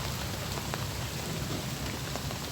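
Steady rain falling outdoors, a dense even hiss of drops on surfaces with a few sharper patters, moderately loud and continuous with no talking.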